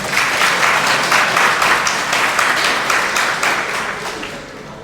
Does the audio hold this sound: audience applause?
yes